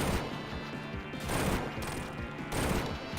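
Rapid bursts of explosive firing and crashing blasts from missiles in the Sonic Origins video game, loud and dense, coming in about three distinct waves.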